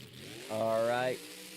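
Monster truck engine revving during a Monster Jam stadium freestyle run in Indianapolis, a single rising, droning roar of about half a second that swells loudly over crowd and commentary noise.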